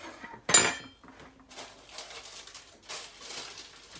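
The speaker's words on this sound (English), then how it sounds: "Now the next thing I do is I put it in my bread bowl" A mixture for a paleo nut and seed loaf goes into a Pyrex bread dish, with one sharp glassy clink followed by softer scraping and patting sounds, close by.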